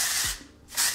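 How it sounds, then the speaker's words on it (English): Two short hisses of texturing spray from The Way misted onto hair while styling flat iron curls, each burst fairly loud and separated by a brief quiet gap. "I'm actually gonna go in first with the texturing spray from The Way."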